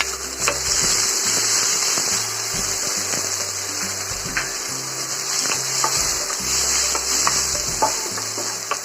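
Green chilies crackle in hot oil in a pan for a vegetarian fried dish, a dense close sizzle dotted with sharp pops, under a repeating low musical backing.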